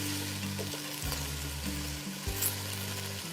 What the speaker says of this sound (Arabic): نستمر بالتقليب والحماس